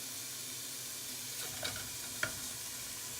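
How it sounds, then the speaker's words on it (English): Bacon sizzles steadily on a flat top griddle, a constant crackling hiss with a couple of brief scraping stirs or pokes at the pan. "So we'll let this bacon cook off."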